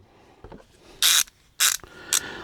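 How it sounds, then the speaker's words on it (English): A ratcheting screwdriver clicks through three short, crisp bursts of its ratchet mechanism. They are close and loud, separated by brief pauses, with no talking. "it's got a nice ratchet"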